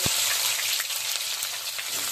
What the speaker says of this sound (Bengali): পেঁয়াজ ছেড়ে দিচ্ছি